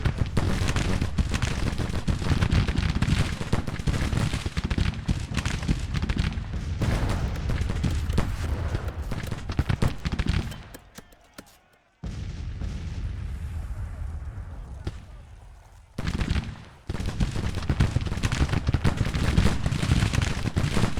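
Artillery batteries fire in the Civil War strategy game Grand Tactician, a dense, rolling barrage of booming volleys that drops away into a brief lull midway, then resumes just as heavily.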